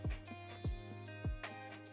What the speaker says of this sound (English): it's just the sound of something shearing a filament